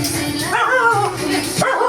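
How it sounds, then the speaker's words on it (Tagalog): Several dogs at a lively Christmas and New Year household gathering give short overlapping barks and yelps, fairly close and steady throughout, amid background chatter and noise. "Yung mga aso."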